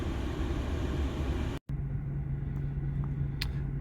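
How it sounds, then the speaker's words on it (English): Blizzard wind roars in a continuous low, broad rumble, cuts out abruptly for a moment, then returns steadier with a faint hum, with no talk. "the wind is not getting any better, as you can see"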